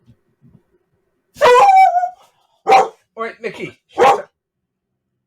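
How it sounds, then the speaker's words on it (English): A dog gives several loud, close barks, a long one followed by three shorter ones, while a person briefly speaks. "Sometimes he's got a very, very deep bark."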